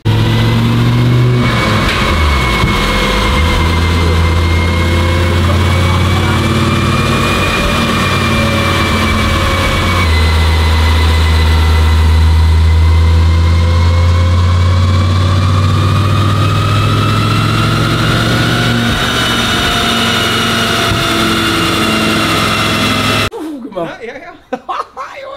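An Audi 20V Turbo Quattro Avant, a limited-run barn find, runs on a dynamometer with a loud, steady engine drone that rises and holds for over twenty seconds before cutting off abruptly near the end.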